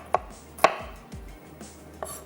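A knife slices an onion on a cutting board for chicken mince pakora, four sharp separate chops with quiet gaps between them, close up, no speech.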